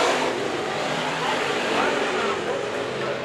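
Race cars roar around the Antioch Speedway dirt track at a New Year's heat race, a loud continuous engine drone filling the clip under an announcer's voice.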